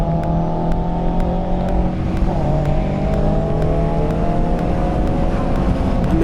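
Track-day cars race past, a BMW Z4 overtaking a Subaru BRZ, with steady loud engine drone and rising and falling revs that overlap throughout, and no voices.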